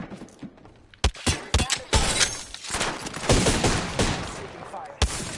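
Gunfire in a shooter video game: bursts of loud rapid shots and impacts crowd the mix, with brief gaps, while a player speaks over the action.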